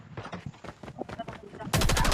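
Gunfire in Call of Duty Mobile: a scatter of soft, rapid shots ends in a sudden loud burst of automatic fire, with a voice briefly mixed in.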